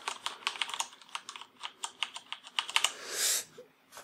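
Rapid typing on a Corsair Vengeance K70 mechanical keyboard with linear MX Red switches: a close, steady run of soft clacking keystrokes, followed by a brief rushing burst near the end.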